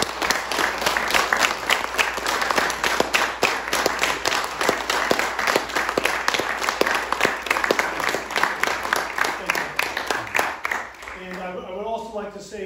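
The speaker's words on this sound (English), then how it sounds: "would you please stand and let me give you a round of applause, please?" Sustained audience applause at a book launch, dense clapping filling the room for about ten seconds before fading as a voice begins speaking near the end.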